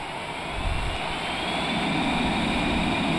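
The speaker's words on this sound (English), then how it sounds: "We're going to take the brakes off, and I don't see them on anywhere here, so let's go outside. Full throttle." Cessna Citation Longitude jet engines at full throttle on the takeoff roll from Pisa, a steady loud roar with a high whine, heard from inside the cabin without speech.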